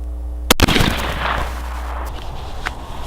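One loud, close rifle shot during scope sighting-in, a sharp blast followed by a rolling echo that fades slowly over a few seconds against a steady low background hum, with no speech.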